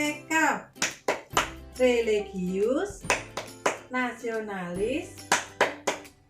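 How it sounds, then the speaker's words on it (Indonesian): Children performing Tepuk PPK, a rhythmic clapping chant, during a primary-school lesson: sharp claps fall in steady bursts between short chanted words, with a voice leading the chant close by. "mari kita bertepuk PPK"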